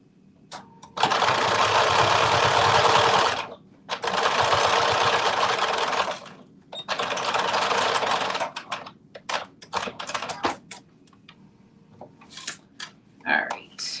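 Home sewing machine stitching a garment seam in three loud sustained runs of rapid needle chatter separated by pauses, followed by short clicks and handling.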